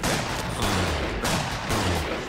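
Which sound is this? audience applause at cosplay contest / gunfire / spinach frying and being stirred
gunfire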